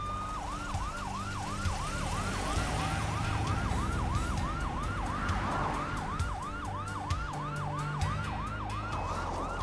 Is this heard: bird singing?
no